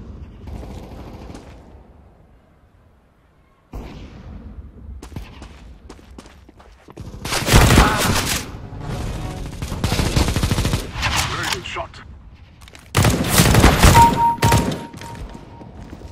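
Counter-Strike: Global Offensive gunfire on the Dust 2 map comes in loud, dense automatic bursts, broken by quieter stretches of footsteps and weapon-handling clicks.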